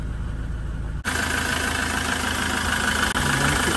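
Land Rover Defender 90 CSW with its 2.4 TDCi diesel engine idling, a steady close, loud drone with a faint rhythmic churn and a brief dip near the start, no talking.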